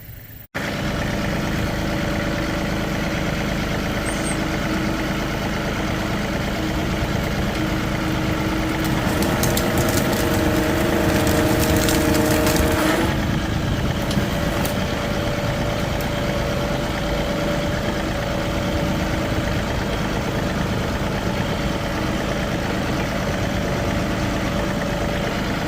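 Tractor engine running steadily nearby while its bucket moves firewood, a continuous low rumble that roughens and rises briefly midway before settling back to an even idle.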